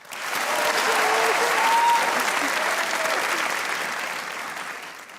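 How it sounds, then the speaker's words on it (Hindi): A television comedy show's studio audience applauds loudly and steadily, peaking midway and gradually fading, with faint cheering mixed into the clapping. "तालियां बजाएं"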